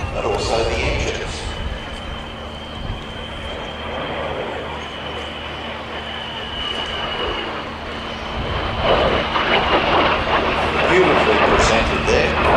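A de Havilland Vampire jet, G-VTII (WZ507), powered by a de Havilland Goblin 35 engine, flies at an air festival, its broad roar building louder toward the end beneath a commentator's ongoing talk.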